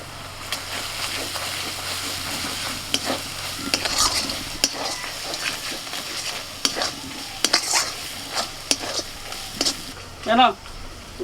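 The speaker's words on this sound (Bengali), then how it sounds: "আদা রসুনটা একটু ভাজা হলে দিয়ে দিচ্ছি কাশ্মীরি লঙ্কার গুঁড়ো" Ginger garlic paste fries with Kashmiri chili powder in a pan, a close sizzle broken by repeated spatula scrapes and clinks against metal, with a brief voice near the end.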